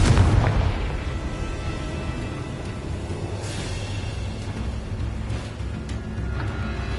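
Fiery Confringo spell blasts in Hogwarts Legacy gameplay on PS5, a sharp explosive burst at the start followed by a rumbling, roaring wash of sound that lingers steadily, with no voices.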